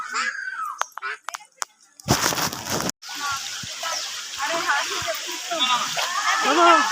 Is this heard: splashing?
yes